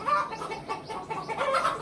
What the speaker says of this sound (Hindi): वो देखो मुर्गी क्या कर रहा है